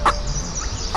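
A wild chicken clucks in two short bursts, one near the start and one near the end, over a steady outdoor background hiss.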